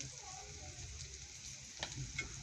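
Turmeric, salt and spices are stirred into a pan of small tilapia fish and vegetable stems, with a soft, steady sizzle and a few light scraping knocks near the end; faint overall.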